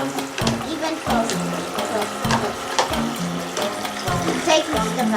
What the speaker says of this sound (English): And we just fill water.